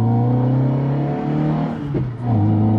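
A classic Lancia's engine revs, a loud close tone rising and falling with a brief dip and then picking back up near the end, alone without voices.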